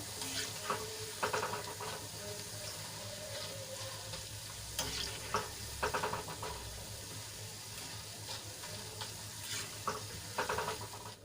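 Gram flour (besan) snack frying in hot oil, a steady sizzle punctuated by bursts of scraping and stirring as the pieces are turned over in the pan.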